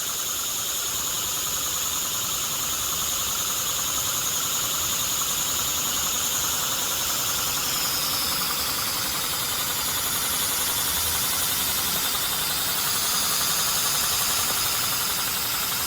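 A small model inline four-cylinder engine run on compressed air from an air compressor makes a steady, continuous buzzing hiss with a faint rapid knocking, holding even throughout at close range with no talk.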